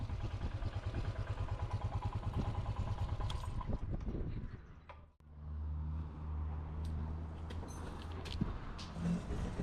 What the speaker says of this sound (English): Did I happen to mention that it was time to go and drop my bike off?